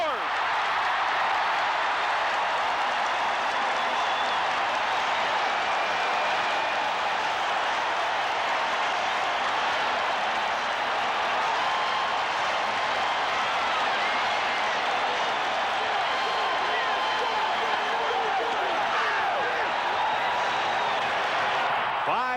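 A packed stadium crowd at a 1987 CFL football game roars without a break for Henry "Gizmo" Williams' touchdown, a dense, loud cheer that holds steady throughout.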